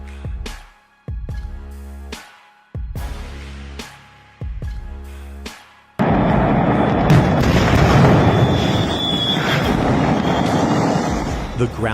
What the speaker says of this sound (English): The ground-shaking explosion as the fireworks factory in India erupted created a massive column of smoke